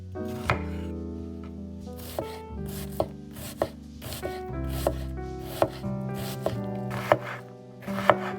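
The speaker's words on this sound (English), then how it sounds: "While it's heating, finely chop a large onion." A knife finely chops a large onion on a board, close and crisp, with regular sharp thuds about every half second under a soft musical bed.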